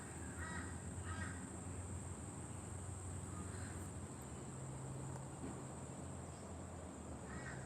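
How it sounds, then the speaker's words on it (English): Birds caw repeatedly at a distance in an outdoor Australian setting, a few scattered calls rising over a steady hum of insects and background noise. "Look at those birds."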